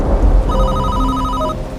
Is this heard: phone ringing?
yes